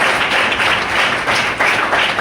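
A crowd at a corporate silver-jubilee plan show in Panipat, Haryana, gives sustained, loud applause, an unbroken wash of clapping hands that swells slightly and then evens out.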